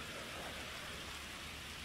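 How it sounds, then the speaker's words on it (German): Rain in the video game GTA Online makes a steady, faint hiss of falling rain, continuous and even, with no voices over it. "Der Regen ist auch neu, oder?"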